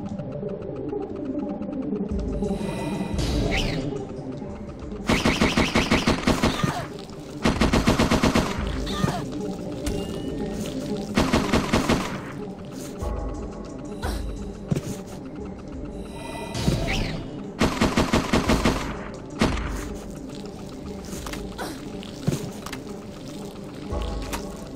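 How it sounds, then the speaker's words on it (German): An automatic pistol in Parasite Eve 2 fires in loud, rapid bursts, several long strings of shots separated by short pauses, over a rumbling game background. "das ist eine automatische Pistole"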